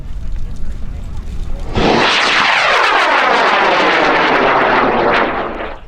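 A high power rocket ignites with a sudden thunderous blast, and its roaring, crackling exhaust holds loud and steady before starting to fade as it climbs away, all without speech.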